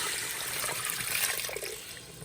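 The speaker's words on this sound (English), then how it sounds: "now we're just gonna add water to cover it." Tap water pours steadily into a pot to cover pieces of meat for slow cooking, a close, continuous splashing gush lasting a couple of seconds with no talk over it.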